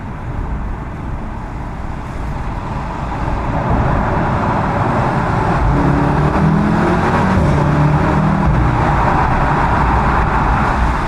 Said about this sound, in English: let's see what this Golf R sounds like